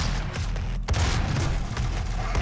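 Gunfire in the video game Doom during a fight against demons, including missed shots. Dense, rapid shots crackle across the whole moment with heavy low rumble, loud and close, with no voices over them.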